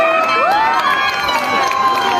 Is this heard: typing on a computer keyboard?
no